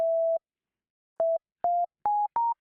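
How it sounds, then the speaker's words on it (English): A plain sine tone from the Lunacy Audio BEAM synthesizer plugin plays one long note, then four short notes stepping upward in pitch, clean and steady with silence between them. "We're just going to make a regular sine wave."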